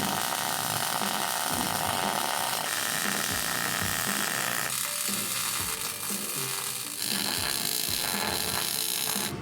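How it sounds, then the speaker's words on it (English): Weld passes run along the inner and outer seams of a vehicle axle, a loud, steady crackling hiss with buzzy, ratchety texture that barely pauses, close by and with no speech. "We're doing 3 passes, welding inner and outer"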